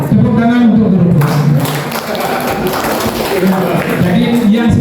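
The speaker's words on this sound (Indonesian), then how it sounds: "Tepuk tangan untuk guru tua." Audience applause for teachers at an Indonesian school program session, a steady dense wash of clapping filling the room, with a voice talking over it.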